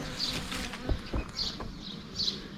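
Bees hovering around a hive built in a garden bush, a continuous near buzzing that swells as individual insects pass close, with faint rustle underneath.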